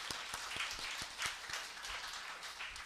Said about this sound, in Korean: 우리 한번 박수 한번 쳤으면 좋겠습니다.